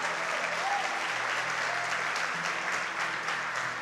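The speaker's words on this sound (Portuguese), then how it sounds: "Vamos aplaudir o nome do Senhor Jesus." Steady congregational applause fills a church service, dense and continuous with no break, the clapping of a whole room sustained at an even level throughout.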